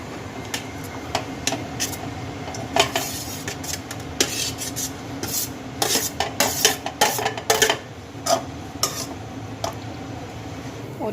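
Gram flour (besan) roasting in a pan on a small gas stove, stirred with a utensil that scrapes and clinks against the metal in irregular bursts. The sound is close and moderately loud, with no talking.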